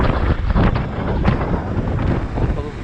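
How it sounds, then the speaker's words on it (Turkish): Strong storm wind buffets the microphone in continuous, rumbling gusts, loud and close throughout, in Bursa, Turkey. "Acayip derecede rüzgar var."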